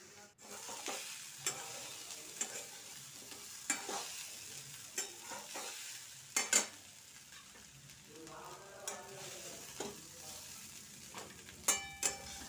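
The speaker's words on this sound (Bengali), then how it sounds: "কালো জিরে ফোড়ন দিয়ে কাঁচা লঙ্কা দিয়ে ফুলকপি আলুটা ভাজা করে নিচ্ছি" Cauliflower and potatoes sizzle softly in a pan with black cumin and green chillies, broken by repeated scraping stirs and light clinks of a utensil against the metal.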